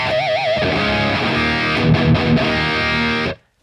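A PolyChrome DSP Nunchuck guitar pedal set to its rat distortion mode, a loud, saturated sustained tone with wavering vibrato at the start, then chords ringing steadily before cutting off abruptly, with no talking.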